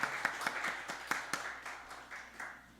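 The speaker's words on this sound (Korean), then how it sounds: "우리 박수로 우리 축복하고 환영하도록 하겠습니다" A small church congregation claps to welcome a first-time visiting mother at a Wednesday worship service, giving a faint, sparse run of individual claps with an uneven rhythm that gradually fades.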